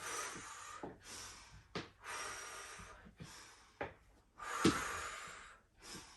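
Labored panting during a bodyweight strength and endurance workout: repeated forceful huffs and snorting exhales at close range, coming in uneven bursts with short pauses between them, and no one speaking.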